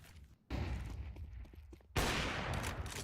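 Counter-Strike 2 gunfire during a women's esports match between Kazakhstan and Kyrgyzstan, an AWP sniper shot landing as a sudden loud crack with ringing tail, following a stretch of dense, steady battle noise.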